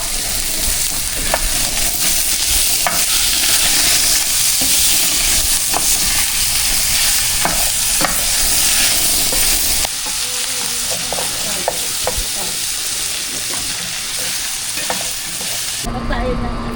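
Pork shoulder and garlic fry in a pan with a loud, close, continuous sizzle and repeated stirring clatters, easing slightly partway through before a brief cut near the end, with no voices.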